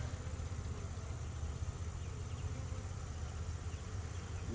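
Late-September honeybee swarm humming outdoors, a steady, dense low buzz of many bees that holds at an even level throughout with no voices.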